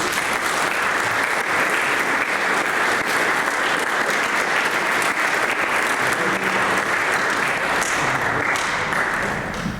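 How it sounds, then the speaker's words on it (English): A large audience at a church student ministry parent meeting breaks into sustained, steady applause that fills the room, loud and even throughout with no talking over it. "can we just give them a round of applause?"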